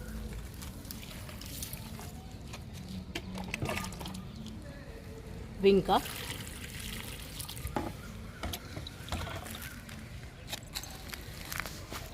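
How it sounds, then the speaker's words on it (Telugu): Water is poured onto newly planted plants and cuttings, a soft intermittent splash and trickle with footsteps moving about and one sharper clatter midway, faint under low background noise. "మొక్కలకి వాటర్ ఇచ్చేద్దాము"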